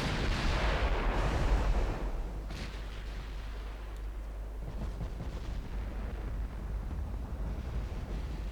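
Warship guns firing armor-piercing shells in the naval battle game Ultimate Admiral Dreadnoughts, a heavy booming blast up front that decays into a long, dense rumbling roar with no voices.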